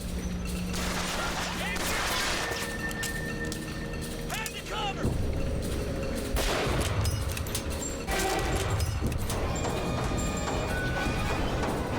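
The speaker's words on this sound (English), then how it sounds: "Where is someone shooting?" Gunfire in the video game BioShock Infinite: a dense spray of shots and mechanical clatter mixed with crashes, fairly loud and continuous amid game sounds.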